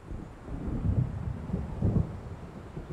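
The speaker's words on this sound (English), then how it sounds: "It seems there's a storm coming." Low rolling thunder rumbles in a video game, Alan Wake Remastered, as a thunderstorm approaches over open water. Two swells of rumble build and fade against a soft, steady wind-and-rain wash.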